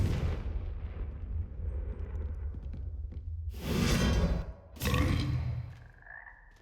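Confringo fire spell explosions in the Hogwarts Legacy video game: two loud, heavy blasts over a dense rumbling game soundscape, followed by a brief whooshing tone as it fades.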